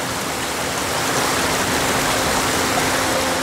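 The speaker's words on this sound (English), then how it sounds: "Under the waterfall." A waterfall in the video game Ghost of Tsushima, a steady, loud, broadband rush of falling water that stays constant throughout, with no voices.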